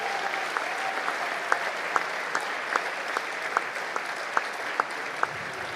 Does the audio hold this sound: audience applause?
yes